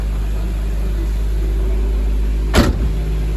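A 2JZGTE engine swapped into an Infiniti G35 runs at a steady idle, a loud continuous low drone with a brief louder burst near the end.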